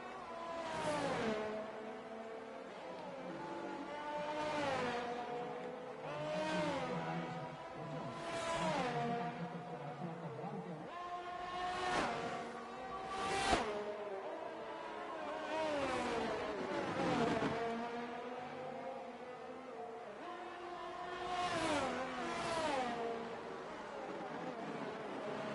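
Red Bull race car engine in a sim racing video game, revving and rising in pitch through repeated gear changes, with several distinct acceleration sweeps and downshifts in a steady rhythm over the lap.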